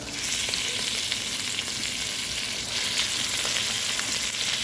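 One kilo of chicken frying with sautéed onion, ginger and garlic gives a loud, dense, continuous sizzle, steady and close throughout, with no speech.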